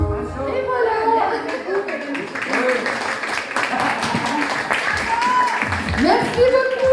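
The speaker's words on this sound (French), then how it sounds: "On peut encore applaudir très très fort. Des applaudissements." An audience claps at a live pop concert after a song, a dense, steady patter of many hands lasting several seconds, mixed with crowd voices and cheering throughout.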